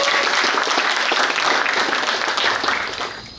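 Loud, dense applause from an audience at a seminary in Malang, Indonesia, steady for about three seconds before starting to thin out.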